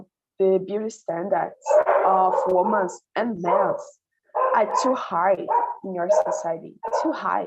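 Dogs bark intermittently in the background, short sharp yaps under a steady stream of close conversational speech.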